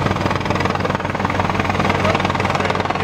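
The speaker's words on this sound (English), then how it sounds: "I'm almost sure it's the last flight for me in an Apache helicopter." An Apache military helicopter in flight, its loud steady rotor and engine roar continuous and close throughout.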